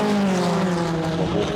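Cooper race cars, including a Walker car, battling on a circuit in a Brabham Trophy race, engines roaring with a steady high note that shifts slightly as they pass.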